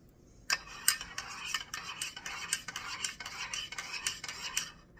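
A spoon clinks and scrapes repeatedly against the inside of a cup of Nescafe espresso in quick, uneven strokes, close and fairly quiet, with no talking.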